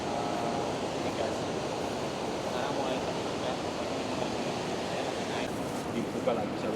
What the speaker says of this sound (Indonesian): Ini sungai besar ya,